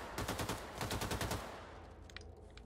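Rapid bursts of laser weapon fire in Wolfenstein II: The New Colossus, a fast stuttering volley of loud shots lasting over a second, then fading into scattered fainter blips and clicks.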